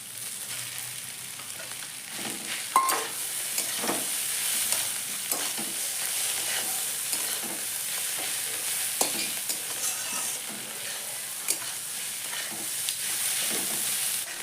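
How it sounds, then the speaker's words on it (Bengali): Chopped okra fries with fried egg in a pan, a continuous sizzle overlaid by frequent stirring scrapes and light utensil taps, close and moderately loud, with no speech. "দেখুন কুচিটা পুরো ভাজা ভাজা হয়ে গেছে"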